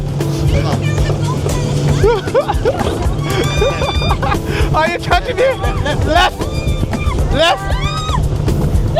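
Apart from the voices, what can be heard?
speedboat engine in Jamaica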